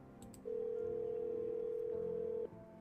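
A single long telephone keypad tone from a video game phone, held steady for about two seconds, loud and clean over faint background hum with no talking.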